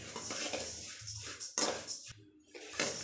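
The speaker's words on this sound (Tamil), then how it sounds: "சோம்பு இப்போ நம்ம நல்லா வறுத்துக்கலாங்க." Fennel seeds being roasted in a pan, with loose scraping and rattling of metal on metal, a few sharper clanks and short pauses, close and fairly quiet, with no voices.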